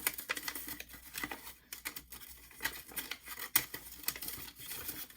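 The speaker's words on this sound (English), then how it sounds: "take my scissors, just kind of trim the edge." Scissors snip along the edge of a sheet of cardstock for a handmade firework stencil card, giving a run of quick, close crisp cuts with light paper rustling and crinkling in between, no voices.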